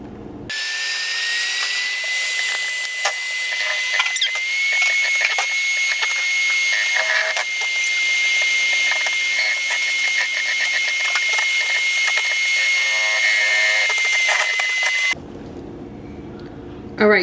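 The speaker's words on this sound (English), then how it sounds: "And I love my little hand mixer." A cheap electric hand mixer whips cream for homemade three-ingredient ice cream, a loud steady high-pitched motor whine with clattering beaters, running continuously close by before switching off.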